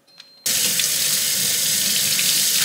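Water runs steadily from a sink tap as hands are washed, a loud continuous rushing that starts abruptly after a brief quiet moment and holds without a break.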